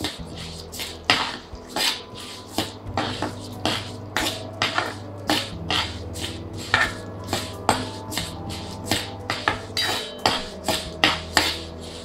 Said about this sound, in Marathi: नंतर त्यात घालणार आहोत मेथीचे दाणे व ते चांगले परतून घ्यायचे आहेत